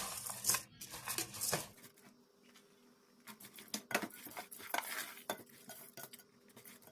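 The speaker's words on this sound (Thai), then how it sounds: "เอาลงมาใส่ในหม้อ คนๆจ้ะ คนผัด คนผัดให้เขาเข้ากันจ้ะ" Rice being stirred and fried in a rice-cooker pot, heard as scraping and clinking strokes of a utensil against the metal with brief clatters, close by and without any talk.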